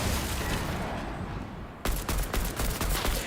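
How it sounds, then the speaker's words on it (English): Rapid gunfire from Fortnite v17.00 on PC breaks out after a quieter stretch of game ambience, then continues as loud, dense bursts of close shots. "So I can shoot my enemies now."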